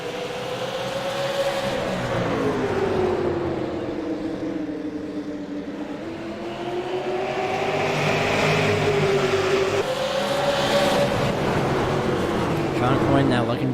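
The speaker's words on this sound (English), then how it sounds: "I just love the sound of these engines." Race car engines drone and rise and fall in pitch continuously, a steady motor whine from a racing game with a voice talking over it.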